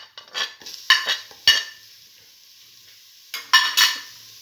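Tomato pieces, mint leaves and salt stirred together in a pan, with a few clinking scrapes of a spoon against metal in short bursts, a quiet pause, then another pair of stirring scrapes.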